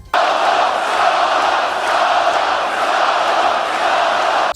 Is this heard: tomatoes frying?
no